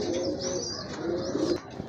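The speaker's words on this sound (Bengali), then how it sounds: "এখানে কিন্তু আরেক জোড়া কবুতর আছে, বাগদাদি হোমা, অনেক লম্বা টাইপের কবুতর" White Baghdadi Homa pigeons cooing close by, soft low throaty coos in a rolling rhythm, with faint chirps mixed in.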